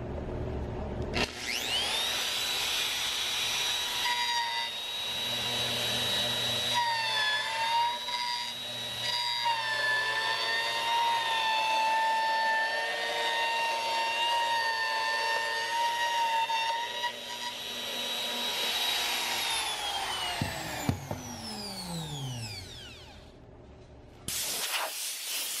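A router cutting a stringer board on a jig: a loud, steady high whine with a hissing cut that shifts pitch slightly as it moves along the wood, then spins down near the end.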